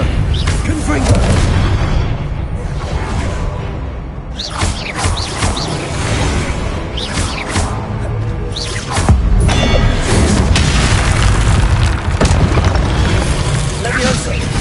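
A Confringo spell goes off in Hogwarts Legacy, with booming blasts and crackling fiery bursts over a dense, loud game soundscape, while a voice shouts spell names throughout.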